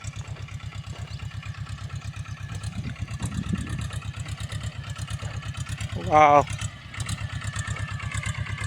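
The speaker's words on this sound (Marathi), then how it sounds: "स्वतः मालकच मारून राहिले ट्रॅक्टर बघा स्वतः मालक मारत आहे ट्रॅक्टर" A homemade jugaad tractor engine runs on a farm with a steady, rapid thumping idle, close and continuous. A brief rising whistle-like tone cuts in near the end, and a voice exclaims once.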